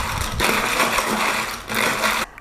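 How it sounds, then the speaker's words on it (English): A spoon stirs an iced latte of milk poured over ice in a glass, giving a steady, close clinking and swirling rattle of ice that runs almost continuously, with brief dips. "Stir."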